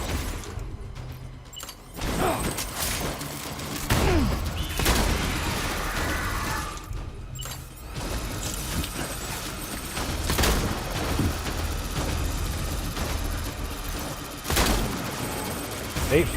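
Enemy shotguns fire repeatedly in the video game Death Stranding, with loud blasts spaced a couple of seconds apart over dense, noisy combat sound, and voices now and then.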